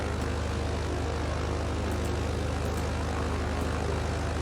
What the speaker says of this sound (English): Alright, good start on the left engine.